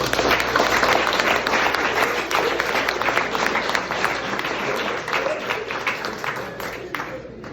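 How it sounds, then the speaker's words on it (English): Audience at a high school baseball banquet breaks into sustained applause, many hands clapping loudly at first and then gradually thinning, with some talk underneath. "So let's give them a round of applause."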